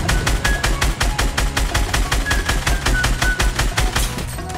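Rapid automatic gunfire from the video game Fortnite, a steady burst of evenly spaced shots that carries on for several seconds, loud and close with no talking over it.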